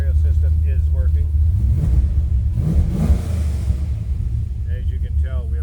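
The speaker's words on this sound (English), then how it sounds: "As you can tell, we have great throttle response" A 1967 Pontiac Firebird pro touring engine rumbles loud and close at idle, swelling with a throttle blip midway, while someone talks over it at the start and end.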